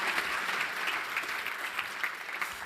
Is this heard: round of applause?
yes